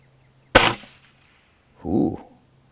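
An air rifle fires a pellet with a single sharp, loud crack, followed about a second later by a short duller thud as the pellet strikes its target.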